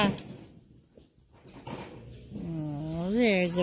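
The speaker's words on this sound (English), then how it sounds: "There's a puppy." Puppy on a family walk in the woods gives a rising, wavering whimper near the end, close and fairly loud, after people talk softly to it.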